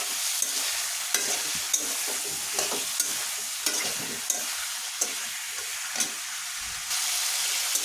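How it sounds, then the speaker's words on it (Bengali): Turmeric, coriander and chili powder fry in a pan of bottle gourd and sarputi fish while being stirred hard. The hiss runs continuously and regular utensil scrapes and knocks land about every half second to a second, close by, with no voices. "হলুদের গুঁড়ো হাফ চামচ ধনিয়ার গুঁড়ো হাফ চামচ মরিচের গুঁড়ো দিয়ে ভালোভাবে এটাকে মেরে নেব"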